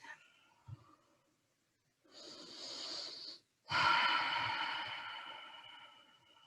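Slow, deep breaths drawn during a supported yoga session, a long airy inhalation followed after a brief pause by a longer, louder exhalation, close and alone with no talk.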